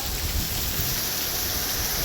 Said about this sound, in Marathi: फुल एकदम जोरात पाऊस आहे